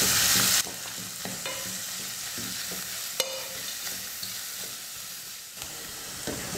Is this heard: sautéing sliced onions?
yes